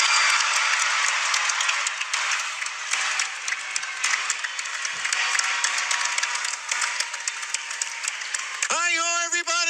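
A large crowd applauds Kermit the Frog's graduation speech with sustained, dense clapping that holds steady throughout, before a voice breaks in at the very end.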